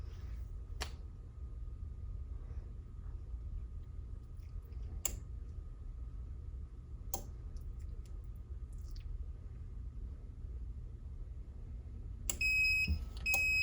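A Vevor 5-in-1 heat press timer gives a short burst of high electronic beeps near the end, after steady low machine hum broken by a few sharp button clicks.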